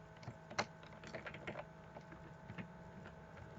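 Fingers tap a computer keyboard, pressing control and space to bring up suggestions, giving a handful of quiet, uneven clicks spread over a few seconds with no voice.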